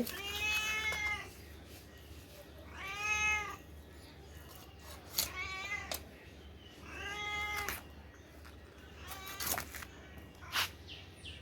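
Several cats meow repeatedly near a pond where raw chicken is being cleaned, giving clear, drawn-out calls at irregular intervals over a low background hum.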